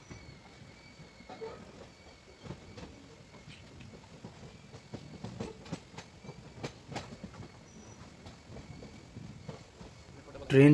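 The Triveni Express passenger train runs on rails near Shaktinagar in India, a continuous rumbling roll with rhythmic clickety-clack and scattered wheel clanks, heard from on board and ending in a sudden loud bang.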